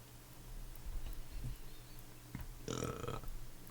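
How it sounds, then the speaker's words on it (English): A loud, throaty burp bursts out about two-thirds of the way through, preceded by quieter mouth and throat noises in a close, otherwise quiet indoor setting. "Excuse me, I burped."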